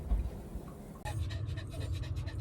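Dogs panting steadily and rhythmically close by, heavy quick breaths over low background rumble, with the panting growing louder and busier partway through, during preparations for a motorhome trip to Europe.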